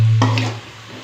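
Chicken curry frying in a pan for Pallipalayam-style chicken, being stirred: a short scrape and sizzle of a spoon through the pan over a low steady hum, close and fairly loud, lasting about a second.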